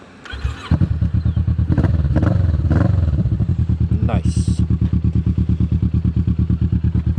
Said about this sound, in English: It's got a Delkevic exhaust on it, so it sounds beautiful.